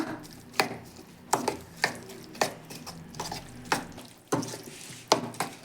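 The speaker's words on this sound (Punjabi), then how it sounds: "ਇਹਨਾਂ ਸਾਰੀਆਂ ਚੀਜ਼ਾਂ ਨੂੰ ਚੰਗੀ ਤਰ੍ਹਾਂ ਦੇ ਨਾਲ ਕਰ ਲਵਾਂਗੇ ਮਿਕਸ" Tomato onion chutney being mixed by hand with lemon juice and coriander, a series of sharp, close taps and scrapes against the bowl in an irregular rhythm, about eight distinct knocks.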